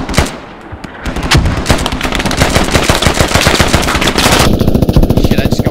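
A tactical multiplayer squad shooter with mortar strikes as infantry advance: loud, rapid bursts of automatic gunfire crackle continuously, punctuated by heavier booms, with no talk over it.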